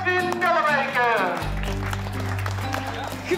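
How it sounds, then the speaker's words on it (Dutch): Applause breaks out for the winner of a ring-riding contest in a village, steady clapping from a gathered crowd starting partway through, following and partly under a voice on a loudspeaker. "Een applaus voor de winnaar van vandaag, Edwin Dellenbeker."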